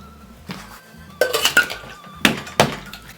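Ice cubes drop into a cocktail shaker holding mango puree for a rum drink, making bright, loud clattering clinks in a few quick clusters with short pauses between them.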